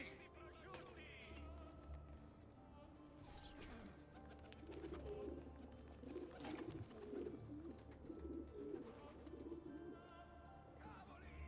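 Pigeons coo from a cage in Assassin's Creed II, a soft repeated cooing heard throughout amid game ambience and rustling, moderately loud and steady.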